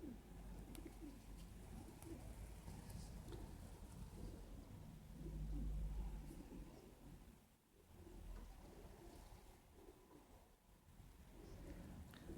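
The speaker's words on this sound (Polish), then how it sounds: "Mamy kolejnego gołębia przylatującego." Pigeons returning home to their loft from a 12.5 km race, heard outdoors with soft cooing and faint fluttering over a steady windy, rumbling background, with one louder low gust partway through.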